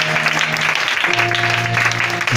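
Church congregation applauding together, a steady dense wash of clapping over a held musical tone, loud and continuous throughout.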